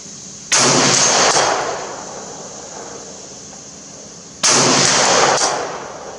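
Two loud, sharp AK-12 rifle shots fired outdoors at a 100-yard target, each a sudden crack trailing into a long rolling echo, several seconds apart.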